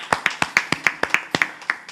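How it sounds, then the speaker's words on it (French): Sparse, uneven clapping from a small audience saluting award recipients at a heritage and culture event, about a dozen distinct claps in two seconds with a loose, irregular rhythm, fairly close. "on les applaudit bien fort, les récipiendaires"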